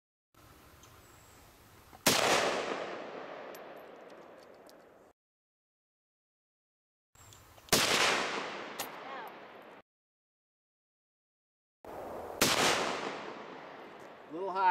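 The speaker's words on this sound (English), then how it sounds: "You've shot this rifle before" Three loud rifle shots fired at a pumpkin outdoors, each a sharp crack with a ringing tail, spaced several seconds apart, with low background noise between.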